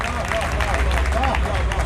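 An audience claps at a Hindi poetry recital, a steady dense wash of applause that carries on without a break, with crowd murmur underneath.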